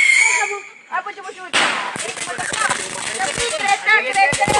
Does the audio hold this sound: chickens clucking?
no